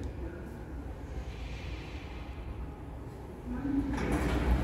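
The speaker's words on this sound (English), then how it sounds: "Doors opening." The sliding doors of a 2002 Cotswold passenger lift, rated 1250 kg and 16 persons, open in a Manchester Piccadilly car park. A steady low mechanical hum swells into a louder rumbling slide near the end.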